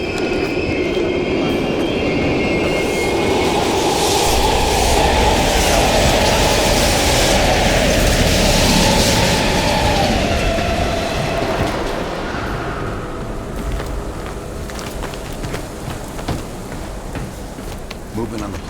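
A train rumbles loudly past an abandoned East German station in Call of Duty Black Ops Cold War, a heavy sustained roar with a rising whine that fades toward the end, alone without talk.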